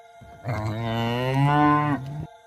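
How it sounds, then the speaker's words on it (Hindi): A cartoon buffalo gives one loud, drawn-out bellow lasting about a second and a half, close and alone with no talk. "तभी भैंसा अचानक से खड़ा हो जाता है और जोर जोर से रंभाने लगता है।"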